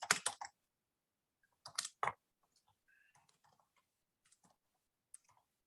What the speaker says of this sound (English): you can probably just hear me clicking away with the keyboard